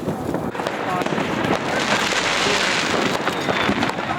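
Fireworks bursting at a New Year celebration in Finland, a dense, continuous crackling barrage with sharp pops throughout, loud and close, with people's voices mixed in.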